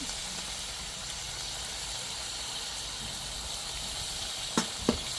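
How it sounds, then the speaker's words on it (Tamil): Dried anchovy curry base sautés in oil in a pan, giving a steady, even sizzle throughout, with two brief sharp clicks near the end. "அப்படியே கொஞ்சம் நேரம் சட்டியிலே வதங்கட்டும். அந்த எண்ணெயிலே வதங்கட்டும்."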